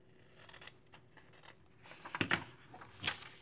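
Close, quiet snips of scissors cutting fabric for teddy bear clothing, with soft rustling and a few sharper cuts near the end.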